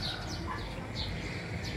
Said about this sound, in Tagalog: Nakakatuwa lang din tingnan yung mga ibon yun.